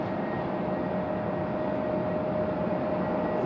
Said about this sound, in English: We do have Spirit landing behind us